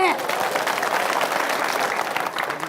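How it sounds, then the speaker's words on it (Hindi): An audience at a gathering claps together in a dense, steady burst of applause that runs throughout, fairly loud and close, with a voice briefly audible at the start. "तालियां बजाए जो मानते हैं।"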